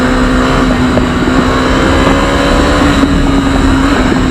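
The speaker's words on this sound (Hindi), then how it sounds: "लेकिन बाइक का साउंड अच्छा आ रहा होगा" A Bajaj Dominar 250 motorcycle engine drones steadily nearby, a continuous low hum with wind buffeting, no voices.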